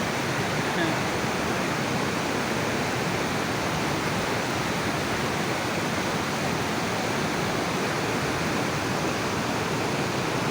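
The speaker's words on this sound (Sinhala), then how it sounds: "කොහොමද යන්නද මේකේ වතුර පාර?" Water rushing steadily at Golumale waterfall in Nuwara Eliya, a loud, dense, unbroken roar that fills the whole stretch without pause.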